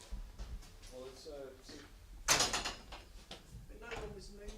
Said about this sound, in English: It sounded like a door.